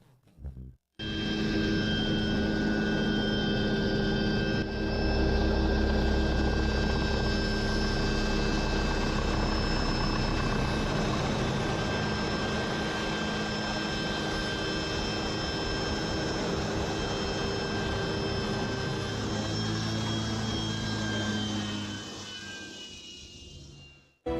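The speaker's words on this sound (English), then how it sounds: "A simultaneous landing of two airplanes at the same time." Two airplanes landing at the same moment on a ship's deck amid strong winds, a loud, steady engine roar that holds for over twenty seconds before fading out.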